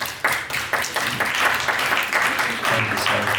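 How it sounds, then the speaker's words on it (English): Short burst of audience applause at a biohacking festival talk in Kiev, dense clapping from a crowd mixed with some voices, fairly loud and close. "let's give a round of applause for Svatoslav and Ira for putting this whole thing"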